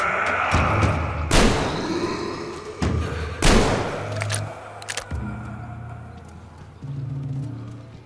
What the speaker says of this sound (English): The A-Shot serves as an effective close-range weapon for this frantic, breathless type of gameplay